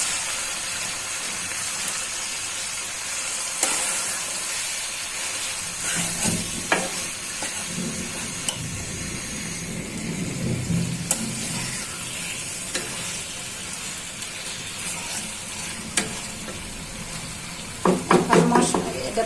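Snake gourd, with small mixed fish to follow, hitting spices already fried in a pan for a Bengali curry: a steady sizzle and frying hiss with stirring scrapes and occasional clinks of a utensil against the pot.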